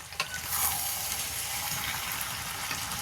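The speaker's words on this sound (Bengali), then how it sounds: "এবার নাড়িয়ে নিচ্ছে সব কিছু কষিয়ে" Biryani masala with potatoes being stirred and fried in a pot, making a soft continuous sizzle with a few light scrapes, fairly quiet and close, with no voices.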